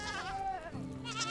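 Goats bleat in the medieval farming game Medieval Dynasty, a couple of short wavering bleats heard close and clear over a soft ambient background.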